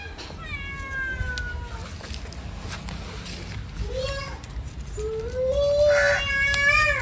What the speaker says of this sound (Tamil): பூனை வருது பூனை வருது